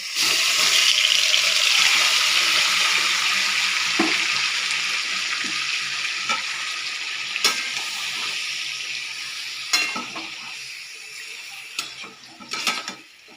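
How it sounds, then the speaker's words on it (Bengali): A cinnamon stick fries in hot oil for a Kalahari chicken dish. A loud, close hiss opens the clip and slowly fades, and occasional sharp metallic clicks and ticks from the pan and utensils sound toward the end, without speech. "দারচিনিটা একটু ভাজা হয়ে যাক আমি এই গরম তেলের মধ্যে দিয়ে দেবো"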